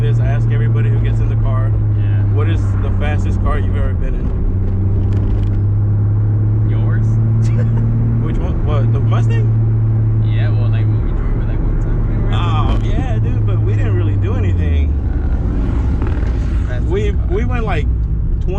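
A Toyota MKIV Supra running rich during a ride-along, with a steady, droning engine hum and rumble that shifts pitch a few times. Voices talk over it.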